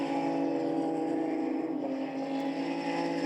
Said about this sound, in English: Zani picks up the throttle, heads on to the Virage d'École, and then along the Mistral straight